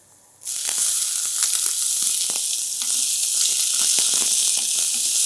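Onion dropped into a hot pan with garlic for Chinese vegetable soup, erupting into a loud, steady sizzle of frying that continues throughout, with occasional crackles and faint stirring clicks.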